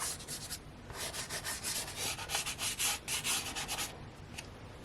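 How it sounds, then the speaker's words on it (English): Pastel is scumbled in a light layer of blue over darker peachy orange on paper for a seascape, heard as close, repeated scratchy rubbing strokes in quick bursts with short pauses between them. "So I'll put the darker peachy orange, and then I will scumble the blue on top of it."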